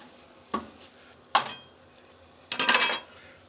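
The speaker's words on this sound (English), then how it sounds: "Nice scraping." A metal scraper is pushed across a hot flat-top griddle while cooking a chicken ciabatta sandwich, giving three short, close scraping strokes over a quiet sizzle, the last one longer and rougher.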